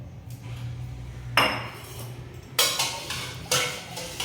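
A handful of washed raw rice is tipped into a metal cooker vessel, making three sharp, close metallic clanks spaced about a second apart over a low background hum.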